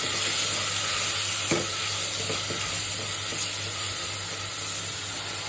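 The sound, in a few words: onion, prawns and potato frying in oil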